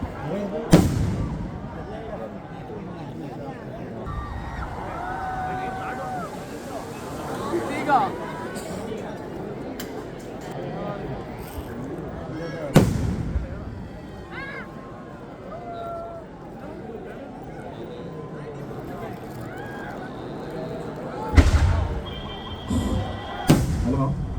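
Loud booming temple festival fireworks burst at intervals, echoing over a murmuring crowd, while someone talks through an amplified announcement between the blasts.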